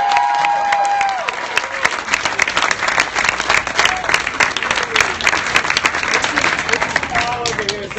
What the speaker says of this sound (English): I want to hear a round of applause for our film crew.